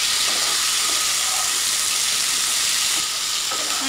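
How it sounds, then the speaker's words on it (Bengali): Potato and pointed gourd sautéing with spices in a pan on a low flame, a steady close hiss of frying with faint scraping stir sounds, no talk. "মশলার সাথে আলু পটলগুলো আমি 1 মিনিট মতো লো ফ্লেমে কষিয়ে নেব।"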